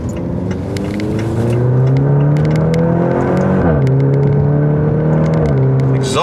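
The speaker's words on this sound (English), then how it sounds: "Exhaust sounds great." A Maserati Grecale SUV accelerates hard with engine and exhaust up close, climbing through the revs in a loud, continuous drone. The pitch dips at a gear change and then rises again.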